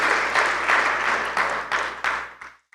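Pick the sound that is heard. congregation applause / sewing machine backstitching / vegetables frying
congregation applause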